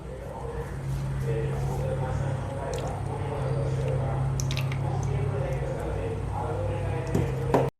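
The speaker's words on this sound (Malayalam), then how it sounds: "എന്നിട്ട് ഇതിലേക്ക് നമുക്ക് വറുത്തരച്ചത് ഒഴിച്ചു കൊടുക്കാം." Thick roasted-coconut paste squelches and drips as it is poured into a pot of prawn and yam curry, with a steady low hum and a voice talking through it.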